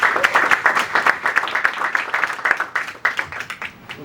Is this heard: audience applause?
yes